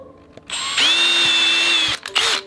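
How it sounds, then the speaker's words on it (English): A handheld power drill whirs up and runs steadily while boring a pair of holes for screws, loud and close, with short stops and a brief restart near the end; no one speaks. "You drill some holes."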